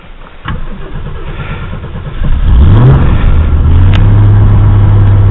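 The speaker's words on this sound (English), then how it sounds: "start it up, and I sit with my foot on the accelerator" A Ford Mustang with a faulty choke cranks briefly, catches and starts, then its engine is held at a raised, steady rev, loud and close with a rising whine as it picks up.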